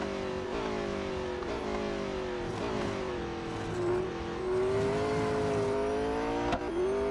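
Race car engine in Real Racing 3 holds a steady, loud drone with rising and falling revs as it accelerates and shifts, a continuous motor roar with no talk over it.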